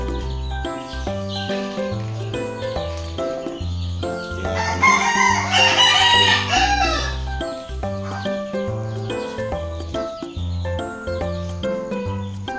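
Backyard chickens and chicks roam outdoors, with roosters crowing repeatedly, hens clucking and chicks peeping in a busy, continuous chorus at moderate distance.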